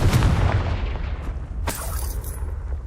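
A Confringo spell blast in Hogwarts Legacy lands as a deep, loud rumbling boom, with a sharp burst near the middle of a short stretch.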